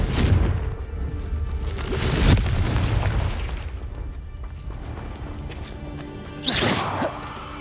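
A Confringo fire spell is cast in Hogwarts Legacy, giving a loud booming blast with a rumbling tail amid game ambience, followed by another sharp magical whoosh near the end.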